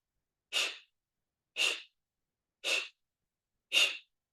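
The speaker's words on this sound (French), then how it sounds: "Avec un expire un peu tonique, une respiration, une expiration purificatrice" Four forceful, evenly spaced breathy exhalations in a yoga breathing exercise, each a short sharp puff of air about a second apart, close and clear against silence.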